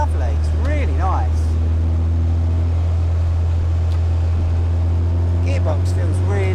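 An Indy RX-5 160 kit car drives on the road, its engine giving a steady low drone with rising and falling gear-change tones as it accelerates, under occasional speech.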